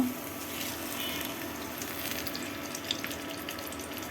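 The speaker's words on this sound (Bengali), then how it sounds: "এখানে আলু কেটে নিয়েছি, ভাজি করব।" Cut potatoes fry in oil with a fairly soft, steady sizzle and light crackle, heard close with a faint background hum and a small clink near the end.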